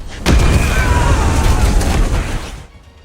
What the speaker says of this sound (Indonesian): Begitu bom rakitan mereka meledak